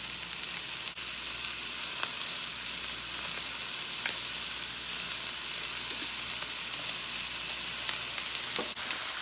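Onion rings sauté in a pan with added salt, producing a constant close sizzle and crackle with scattered small pops, steady and fairly quiet with no talk.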